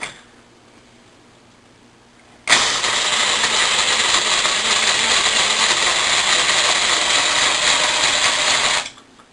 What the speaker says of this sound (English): I'll measure it when I'm done grinding it